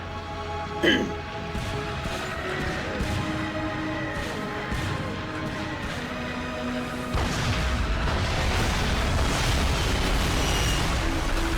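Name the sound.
artillery shell explosions in Call of Duty: Finest Hour video game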